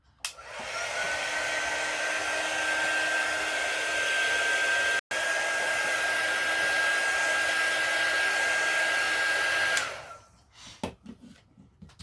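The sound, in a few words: hair dryer drying fresh paint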